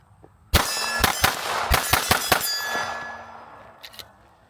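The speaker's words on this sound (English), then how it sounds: "Do a little mag dump with it and see if I can keep it on target." An Atlas Apollo pistol fired in a rapid mag dump: a quick burst of about eight sharp reports with bright metallic ringing that decays after the last shot, then a couple of faint clinks.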